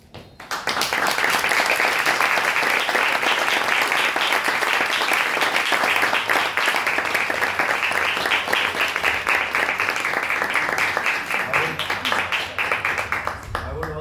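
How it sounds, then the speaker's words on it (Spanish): Conference audience applauds the organizers in a long, dense round of clapping that starts abruptly, holds loud and steady for over ten seconds, then thins near the end. "with a round of applause to these organizers, I would like to finish my speech"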